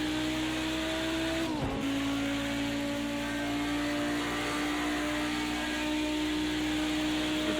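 An Audi Group B Quattro races in Project Cars 2 at Bathurst, a loud continuous engine drone with a brief gear-change dip before the pitch settles and holds steady, with no talking.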